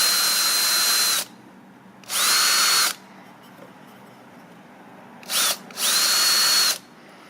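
A power drill cuts a countersink for deck screws in an IKEA shelf bracket in three short bursts, the third briefly stuttering before it runs, each loud and close, with quiet pauses between.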